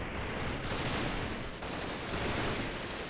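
Dense, continuous gunfire from a firefight in the video game Freeman Guerrilla Warfare, rapid overlapping shots and bursts forming a loud, steady barrage throughout with no talk.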